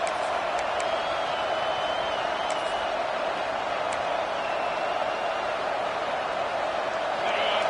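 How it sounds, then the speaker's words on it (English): A dense college football stadium crowd roars steadily as the defense lines up against Notre Dame, a sustained, distant wall of noise with faint whistles and swells over a continuous rumble. "Listen to this crowd just shaking the girders of this place, trying to help their defense."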